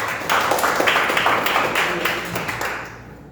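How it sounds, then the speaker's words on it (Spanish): Audience applause at a university book presentation, a full dense round of clapping from many hands that swells quickly, holds steady and fades out over about three seconds. "Para él merecido el aplauso, por favor."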